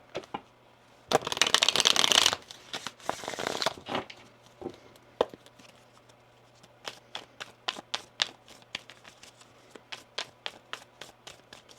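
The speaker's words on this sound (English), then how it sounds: "One more shuffle here." Tarot cards are riffle-shuffled in a couple of quick, rustling bursts, followed by a string of crisp taps and flicks as they are handled and laid down.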